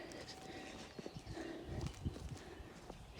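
Soft, uneven clip-clop of horse hooves on the ground, faint and close, a few irregular steps over quiet outdoor background.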